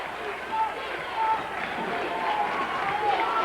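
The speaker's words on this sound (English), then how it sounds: "Cardinal fans making some noise now, Chuck." Steady roar of a high school basketball arena crowd cheering and buzzing, with a commentator's voice talking over it.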